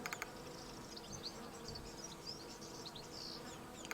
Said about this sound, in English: So I should be killing more bees as they go out and forage this dangerous foraging zone.